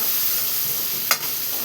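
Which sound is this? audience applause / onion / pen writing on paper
onion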